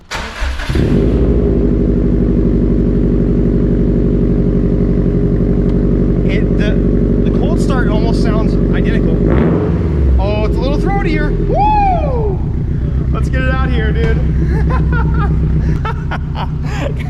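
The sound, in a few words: Subaru STI aftermarket exhaust note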